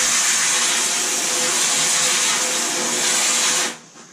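A variable-speed sander fitted with a hook and loop 60 grit pad smoothing fiberglass while building a Divinycell water tank for an Albin Ballad boat refit: a loud, steady close-up hissing roar that runs continuously and then drops away abruptly near the end.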